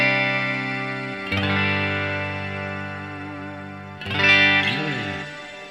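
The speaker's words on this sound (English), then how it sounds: "This is a cloud and a celestial type reverb." A guitar played through a cloud and celestial type reverb pedal rings out as sustained, shimmering chords with long washy tails, two struck chords swelling and blooming into lush ambient decay, alone without talk.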